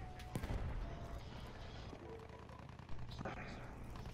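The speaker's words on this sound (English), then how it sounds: "Big might explosions." Explosions and gunfire in Battlefield 1, with booming blasts and crackling bursts over a dense rumbling battle din, while players talk over the top.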